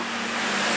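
Road traffic with a passing motorbike, a continuous broadband roar of vehicles close by, steady and fairly loud over less than a second.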